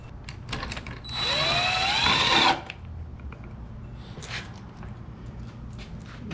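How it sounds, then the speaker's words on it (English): An impact drill with a 1/2 inch socket whirs for about a second and a half driving a flanged bolt, pitch rising as it spins up, then cuts off, followed by light clicks and handling noise. "I've got a 1/2 inch socket in my impact drill."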